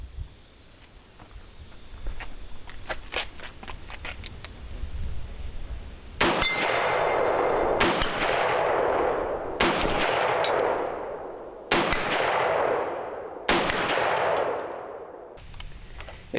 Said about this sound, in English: Now I'm only shooting at targets about 50 yards away.